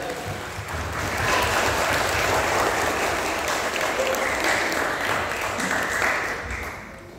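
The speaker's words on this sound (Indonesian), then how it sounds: "Marilah kita memberikan aplaus kepada santriwan yang" Sustained, dense audience applause fills a hall at a Quran memorisation graduation ceremony, steady for several seconds before tapering slightly at the end.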